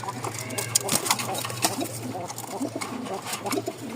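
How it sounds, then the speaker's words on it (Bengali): Pigeons coo and call repeatedly, several birds overlapping in a steady stream of soft, throaty calls close by. "সারা রাত প্রচুর ডাক এই ককার চিকন ডাক খুব সুন্দর"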